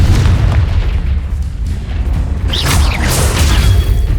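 A Confringo spell in the Hogwarts Legacy video game bursts as a loud booming explosion with a crackling, sparkling tail, heard alone with no talk.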